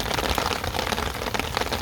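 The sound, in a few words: heavy rain falling on rooftop garden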